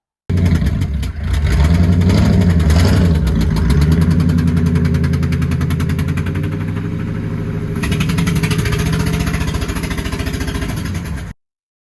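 Ford modular V8 engine running with a blown-out spark plug, a loud close rapid ticking and puffing chuff over the idling motor, rising briefly as it revs, then settling into a steady fast rhythm.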